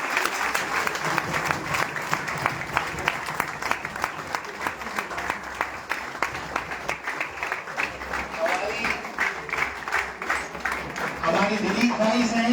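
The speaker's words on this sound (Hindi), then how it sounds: "चलिए मैं चाहता हूँ एक बार जोरदार तालियां हो जाए।" A crowd gives loud, vigorous applause at a celebration of first-rank stenographer exam results. Sharp individual claps stand out in a steady, dense stream, and a voice briefly comes in at the end.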